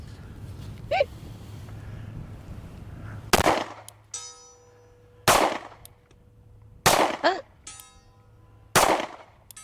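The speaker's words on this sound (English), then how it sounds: "Did the gunfire sound a lot sharper" Four sharp, loud gunshots ring out a couple of seconds apart, each with a brief echoing tail, with faint voices in the quiet gaps between.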